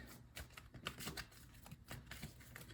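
Oracle cards being shuffled in quick, papery riffles and slaps, a steady run of soft flutters up close with no talking.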